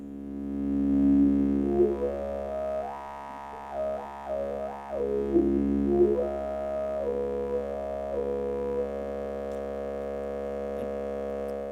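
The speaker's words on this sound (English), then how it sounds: "Let's say if I have a signal from the square wave here, so now the tone drum turn into a sound processor." A modular synthesizer's tone drum module processes a square-wave signal from a VCO, producing a sustained harmonic-rich electronic drone whose pitch glides and wobbles up and down midway before settling into a steady buzzing tone.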